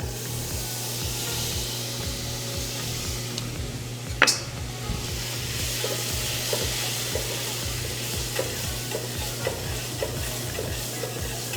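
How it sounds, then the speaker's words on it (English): Butter melts in a saucepan with a steady, close sizzle under repeated stirring and scraping strokes, plus one sharp metallic clink partway through. "So we're gonna get started by melting some butter in our saucepan"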